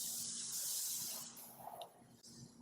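Beer hits a very hot pan of bratwurst sausages and sizzles, a soft, steady hiss that fades as the liquid settles.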